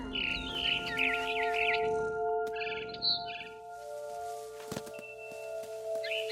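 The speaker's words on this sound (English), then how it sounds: "Then I heard chirping outside my window. It was a barn swallow going back to her nest." A barn swallow in What Remains of Edith Finch chirps in short twittering bursts near a window, fairly faint, over a steady tonal background hum with a few soft thuds.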